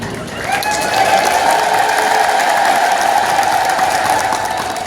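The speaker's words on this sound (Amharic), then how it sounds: "እመቤቴን ስለምትወዷት በደንብ አጨበጨባችሁ፣ ጥሩ ነው።" A church congregation claps and applauds steadily for several seconds, a dense, even wash of hands filling the hall with a faint sustained tone underneath, without speech.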